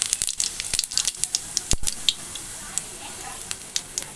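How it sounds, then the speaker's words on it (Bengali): Cumin seeds and dried red chillies spluttering in hot oil for a chicken curry tempering, with sharp crackles and pops scattered throughout, busiest at the start and thinning out toward the end, close up. "তেলটা গরম হয়ে গেছে তেল গরম হয়ে গেছে এতে জিরে এই দেখো জিরে আর শুকনো লঙ্কা ফোড়ন দিয়ে দেবো"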